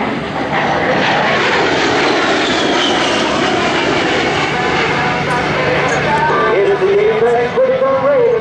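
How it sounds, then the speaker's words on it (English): An A-10 Thunderbolt II Warthog jet flies a level 360-degree high-G turn at an air show, its loud, continuous engine roar and rising whine filling the air throughout, with crowd noise and a faint announcer voice beneath. "repositioning his aircraft to perform a level 360-degree high G turn"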